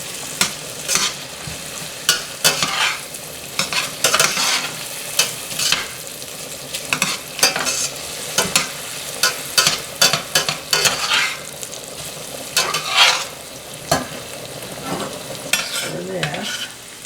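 Almonds sizzle and fry in a pan while being stirred, a steady busy crackle broken by frequent scraping stir strokes, loud and close throughout with no talking.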